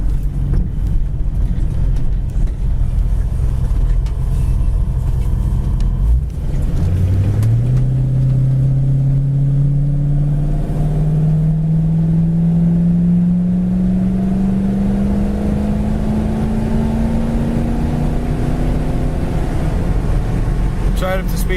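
A 1966 Ford Mustang GT accelerates on an open road, its engine note climbing steadily in pitch as it gets up to highway speed, with a constant rumble of tires and wind underneath.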